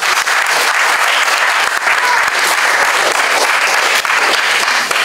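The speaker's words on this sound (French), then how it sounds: "Bon, applaudissez pour moi." Crowd clapping at a political party gathering, steady dense applause from many hands throughout, loud and continuous.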